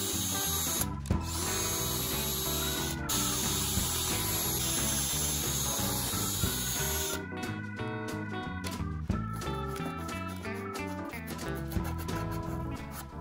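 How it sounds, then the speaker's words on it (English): Power drill boring large holes in wood for a dowel in a minivan kitchen build, a loud whirring drive with uneven grinding bursts and pitch shifts, then a rapid ratcheting clatter, close and alone. "I would have to screw in two very large holes to fit the dowel through"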